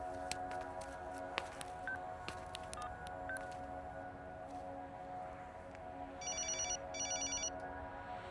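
A mobile phone rings with two short bursts of trilling tone in the latter half, fairly faint over a steady background hum with scattered clicks and no talking.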